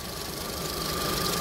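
A Mitsubishi car engine idles quietly and evenly, a steady low hum with a faint mechanical ticking and no rise or fall in pitch, heard alone without talk.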